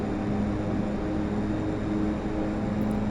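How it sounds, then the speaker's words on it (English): Twin turboprop engines of a DHC-6-300 Twin Otter in the video game FSX drone with a steady, loud hum and low tonal whine, close up and alone without talk. "the engines, they sound like they just go up and down"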